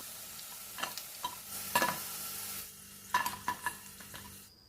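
Sliced plantain frying in hot oil, a steady sizzle broken by several sharp bursts of spatter and utensil scrapes, close and moderately loud, with no voices.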